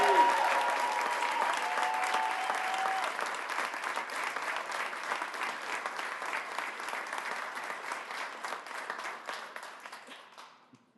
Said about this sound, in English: everybody please give a huge round of applause for